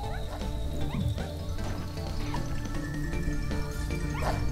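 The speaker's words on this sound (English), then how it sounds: "Another big doggy." A large dog enemy in the video game Spiral Knights barks and yips several times over dense, loud game music and combat effects.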